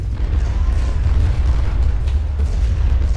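Cannon fire in Ultimate General: Civil War rumbles as a continuous low, booming wash of distant artillery, heavy in the bass and steady without distinct separate blasts.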